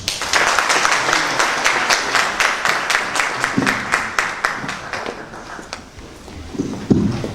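Audience applause at a university medical faculty graduation oath ceremony, loud sustained clapping from a large crowd with sharp individual claps standing out, fading slightly near the end.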